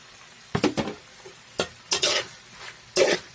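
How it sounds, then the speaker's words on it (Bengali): Turmeric, chilli, cumin, coriander and meat masala stirred and fried in a pan, with several bursts of scraping and sizzling in separate strokes, close and moderately loud with short pauses between. "ভালো করে ভেজে নিয়েছি।"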